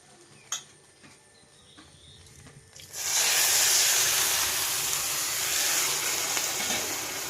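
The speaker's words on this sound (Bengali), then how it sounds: "এবার জল দিয়ে দেবো।" Water poured into a hot pan of fried potatoes, a sudden loud hiss of steam and boiling that starts partway through and holds steady to the end, after a few faint clicks.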